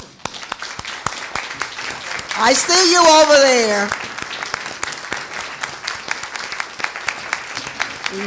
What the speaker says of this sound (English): if we could get a hand clap for them